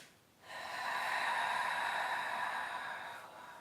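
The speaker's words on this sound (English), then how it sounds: "Try the earth breath, which is when you inhale and you exhale" One long audible breath from an earth breath breathing exercise, a close airy inhale-exhale through the nose and mouth, soft and sustained for about three seconds with no talking.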